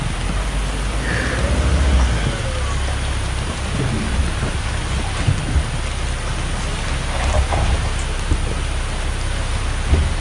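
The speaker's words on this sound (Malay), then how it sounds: "Okey, hujan sudah mula turun." Steady, heavy rain pours down on the rough road to Ulu Tupai in the forest, a constant dense hiss with low rumbling underneath and no talking.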